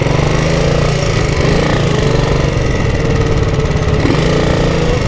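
A Suzuki Intruder Chopper 250 motorcycle engine idles loudly and close by, a constant rumbling putter that holds steady the whole time with no talking.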